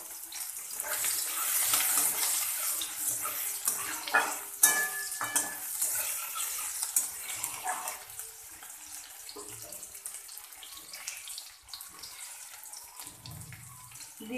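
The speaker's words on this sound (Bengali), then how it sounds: "এবার কড়াতে তেল দিয়ে দিয়েছি, এবার আমি দিয়ে দেব পেঁয়াজ কুচি" Chopped onion hits hot oil in a wok and sizzles steadily at close range, with stirring scrapes and some running-water noise. No one speaks.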